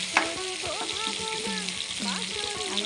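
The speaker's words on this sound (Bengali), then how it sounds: "পাবদা মাছ ভাজতে গেলে শুধু ছিটে" Pabda fish fry in hot oil, crackling and spitting with sharp splatters over a steady sizzle, close and fairly loud, with faint tonal kitchen sounds in the background.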